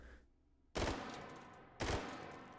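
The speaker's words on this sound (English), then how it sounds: "listen to that fire rate with 3-round burst" An AK-12 prototype rifle in Hot Dogs, Horseshoes and Hand Grenades fires two separate rapid three-round bursts. Each one is loud, close and sharp, with a short pause of near silence between them.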